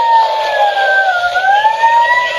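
A toy ambulance siren wails steadily, its high electronic pitch sliding down and back up in a slow sweep, close and loud with no talk.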